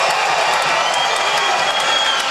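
A packed gym crowd at a high school boys' basketball game roars loudly and continuously with cheering, whoops and clapping, filling the space close and dense throughout.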